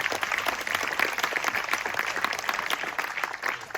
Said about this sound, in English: Why don't you give him a round of applause as he comes up